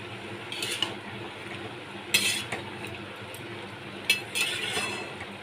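A spoon stirs cumin powder into a bottle gourd curry in a pan, giving soft scraping and clinking strokes in a few short bursts, fairly quiet, with no talking.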